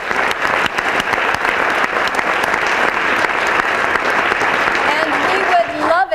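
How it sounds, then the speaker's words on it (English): A theatre crowd gives sustained, loud clapping in honour of the sound and lights technician, a thick and steady roar of hands that falls off near the end, where a voice briefly comes in. "Clapping, but this time let's let it be for John Crowley on sound and lights."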